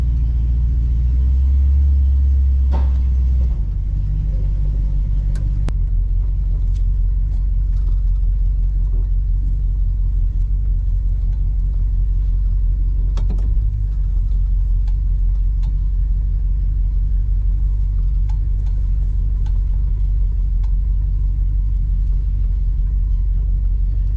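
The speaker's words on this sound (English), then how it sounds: "this one I'm going to leave out and let it run for a little bit. Let it cycle some fuel through the carburetor." A classic car with a Stromberg carburetor idles to warm up, a loud steady low rumble with a brief heavier surge near the start, then a constant even engine drone throughout.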